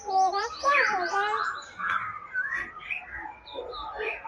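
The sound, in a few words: small bird chirping as it flies in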